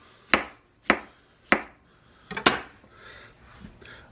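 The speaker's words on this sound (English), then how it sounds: "Slice them." A knife chopping through vegetables on a board: three evenly spaced sharp cuts, then a quick double cut and a few softer, scraping strokes, close and clear with no talk.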